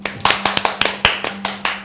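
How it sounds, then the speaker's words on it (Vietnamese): People at a training centre clap to welcome a new student: about ten crisp, evenly spaced claps, close and fairly loud, over a low steady hum, with no talking. "Tất cả mọi người cho cậu ấy một tràng vỗ tay đi."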